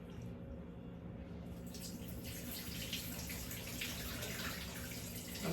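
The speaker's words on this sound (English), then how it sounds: "So now let's wash these things from here." Tap water runs steadily into a sink while vegetables such as tomatoes and kale are washed, a continuous close splashing wash that grows a little busier partway through, with no talking.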